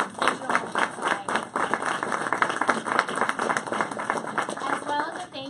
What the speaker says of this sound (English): giving a huge round of applause to our teachers